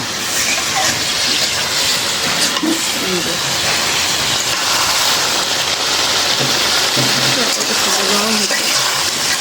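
Vegetable stems and spices sizzle steadily in a hot pan, a continuous loud hiss throughout, with someone speaking over the cooking.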